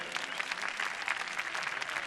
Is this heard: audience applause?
yes